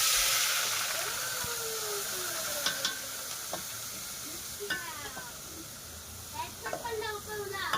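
Spiced masala frying in well-heated oil in a cooking pot for an octopus curry, a steady close hiss with sharp crackles and pops rising toward the end, and someone talking softly through it.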